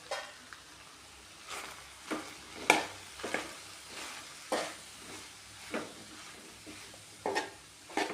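Coriander powder and chili powder stirred in a frying pan for a shrimp roast, with a soft sizzle under repeated scraping strokes of a spoon that come every second or so, close and fairly quiet.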